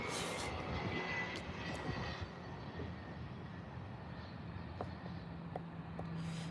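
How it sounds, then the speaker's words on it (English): An EasyJet airliner departing Birmingham airport, its jet engines producing a steady, broad roar held at a distance throughout. "We have got an EasyJet heading out now, though."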